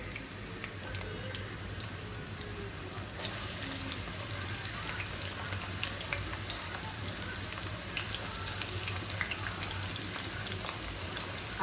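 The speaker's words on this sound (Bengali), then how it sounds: "এখানে আমি প্যানে তেল দিয়ে দিচ্ছি, আমি এখন ইয়াটা বেরেস্তাটা ভাজি করে নিব।" Onions for beresta frying in oil in a pan, a steady soft sizzle and crackle, fairly quiet and continuous with no talking.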